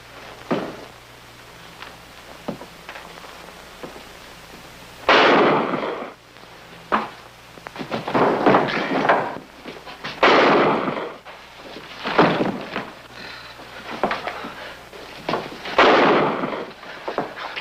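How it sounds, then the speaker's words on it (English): Gunshots ring out repeatedly in a 1951 TV crime drama, several sharp cracks and heavier booming blasts spaced irregularly, each trailing into echo. "I don't want to disturb the neighbors with the gunshots."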